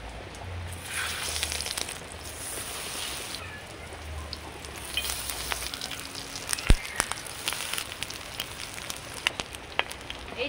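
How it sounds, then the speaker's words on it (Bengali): Egg paturi wrapped in pumpkin leaves fries in mustard oil in a covered pan, giving a soft steady sizzle with scattered crackles and pops, faint and close, growing busier toward the end. "এই ডিমের পাতুরি কিন্তু ঢাকা দিয়ে দিয়ে ভাজতে হবে"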